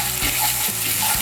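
Garlic paste goes into onions already fried red in a pan, giving a short burst of close, bubbling sizzle with a couple of light scraping stirs.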